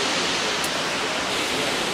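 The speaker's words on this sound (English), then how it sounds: "we found another viewpoint, see? Waterfall, zoom." Steady roaring rush of a tall waterfall seen from a viewpoint near Vancouver, Canada, a dense continuous wash of falling water with no pauses and no voices.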